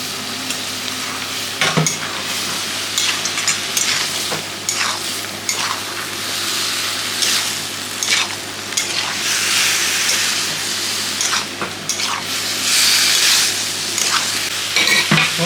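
Boiled, turmeric-tinted jackfruit fried in oil is tipped into a pan with shrimp, sizzling loudly while a utensil stirs and scrapes the pan in irregular bursts throughout.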